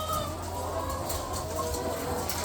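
Chickens cluck and murmur in a dense flock inside an egg farm house, a steady close chorus of soft calls over a constant low hum.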